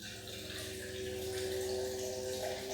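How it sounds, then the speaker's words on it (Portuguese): Filtered water poured into a bowl for seeded low-carb bread dough, a quiet steady trickling stream with a faint tonal hum beneath, continuous and close, with no talking. "E agora nós vamos entrar aí com a água filtrada."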